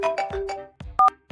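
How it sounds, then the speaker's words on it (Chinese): A mobile phone ringtone plays a short run of bright melodic notes, ending in two sharp, loud beeps. "手机响起"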